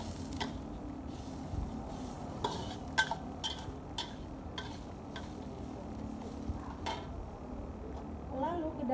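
Meat fries in a pan for Indonesian kwetiaw goreng, with a steady sizzle beneath sharp scraping and clicking strokes of a utensil stirring it.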